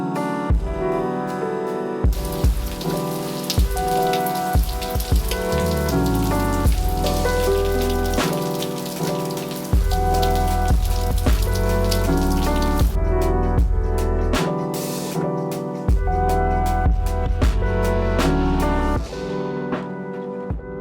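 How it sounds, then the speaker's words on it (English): Rain falls steadily outside in a continuous patter beneath soft, ringing musical notes indoors. The patter carries on through the long stretch without any voices. "It is raining outside"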